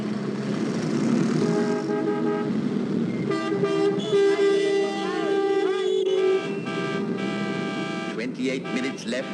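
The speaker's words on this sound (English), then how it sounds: "Don't you blow your horn at me, you bloody road dog!" Car horn toots repeatedly in a 1962 British comedy street scene, sharp honks layered over engine noise with voices talking alongside.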